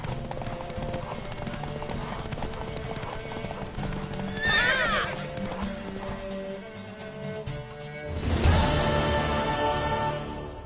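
Horse hooves clip-clop in a steady trot in The Witcher video game, with a loud whinny midway and another burst of neighing and hoofbeats near the end, over faint game music and voices.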